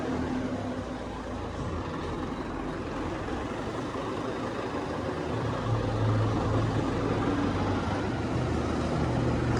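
A tractor engine runs with a steady low diesel drone and a faint tonal hum, fairly distant and even for about ten seconds, with no talking over it.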